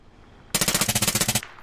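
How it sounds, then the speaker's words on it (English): Rapid automatic gunfire in a military squad shooter game, a single tight burst of about a dozen evenly spaced loud shots lasting under a second, close and sharp. "gets headshot by JPEP."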